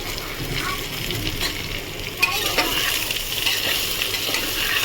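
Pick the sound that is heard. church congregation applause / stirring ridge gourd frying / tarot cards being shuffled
stirring ridge gourd frying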